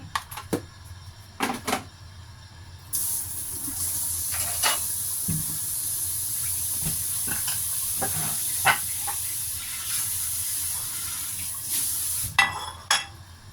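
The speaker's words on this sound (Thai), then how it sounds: "ต้มให้เดือดก่อนนะคะ" A pot of fresh mackerel soup with tamarind and salt boils on the stove, a loud continuous steamy hiss taking over after a few seconds, broken by scattered clicks and knocks close by.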